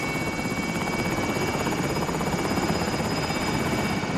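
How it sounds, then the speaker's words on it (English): Helicopter in the video game Call of Duty Modern Warfare, a loud, steady rotor drone with fast rhythmic chopping and engine buzz throughout, no speech. "Helo is in position for your deposit."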